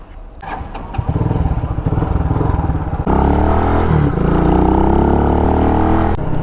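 An RPS Condor CG250 motorcycle fires up and pulls away, its single-cylinder engine chugging in a steady pulse before rising to a loud, sustained drone as the bike rides off, heard up close with no talking.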